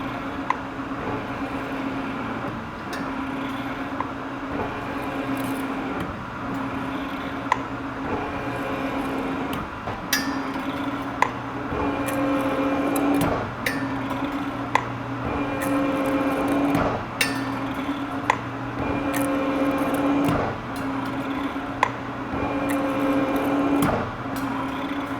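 A Cincinnati 36-inch metal shaper cutting with a 1-inch tool bit at 17 strokes a minute, a steady mechanical hum punctuated by a regular, repeating stroke rhythm and sharp knocks.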